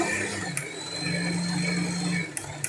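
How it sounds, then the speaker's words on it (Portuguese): An electric mixer whips egg whites for a cloud cake with a steady motor whine and a low hum, running continuously at close range, with brief clicks near the start and again near the end as it is switched off. "eu agora vou desligar a batedeira"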